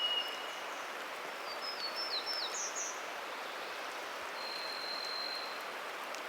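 Steady rain falls in a redcedar forest, a soft, even hiss with faint, distant bird calls chirping now and then above it.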